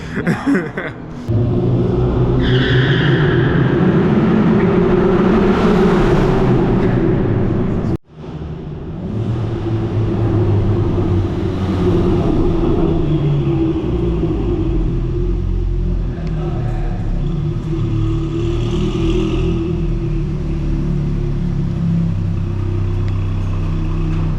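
An Audi S3 with an aftermarket downpipe rumbles with a deep, steady exhaust at close range, with a brief rev early on and a short cut before the drone resumes.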